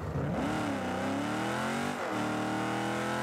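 An Optimus Prime car engine in the video game Rocket League revs up with rising and falling pitch sweeps, a loud, close synthetic whine that dips and climbs again, with no talking.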